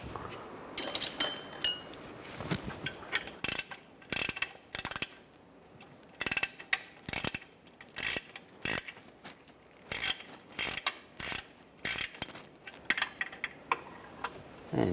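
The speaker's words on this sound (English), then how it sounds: "I'm going to take that bolt off as well." A ratchet wrench clicks in repeated short bursts as it backs a tricky-to-reach bolt off a 2011-2015 Chevrolet Cruze during turbocharger and exhaust manifold work, the crisp pawl ticks close and alone with brief pauses between strokes.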